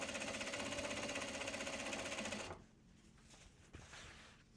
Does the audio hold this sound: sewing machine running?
yes